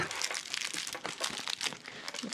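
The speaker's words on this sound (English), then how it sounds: "Stuffing free toy with new crinkle sound" Crinkle pet toy being handled, a close, busy crackling and rustling of crinkly material in quick irregular bursts, moderately quiet, with no voices.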